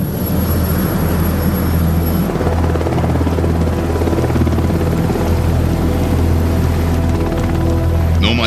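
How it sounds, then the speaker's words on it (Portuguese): A Sea King search and rescue helicopter drones steadily with a loud, continuous rotor and turbine roar, close and unbroken throughout, with no voices. "O Sea King é o helicóptero clássico de busca e salvamento."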